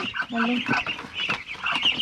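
Large ducks being moved into a new pen give short quacks and clucking calls in quick bursts nearby, with a person speaking among them.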